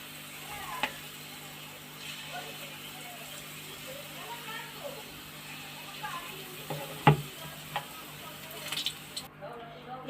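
Urad dal fritters (biulir dal bora) frying in hot oil over a gas flame, giving a steady soft sizzle with scattered small pops and ticks while a voice talks over it.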